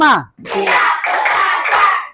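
A class of students claps in unison in a rhythmic counting game, a loud, close burst of massed hand claps with steady accents. Voices are mixed in with the clapping, and a teacher's brief call comes just before it.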